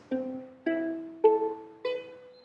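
A ukulele playing a riff, four plucked chords in steady succession, each ringing briefly and decaying, close and clear with no talking.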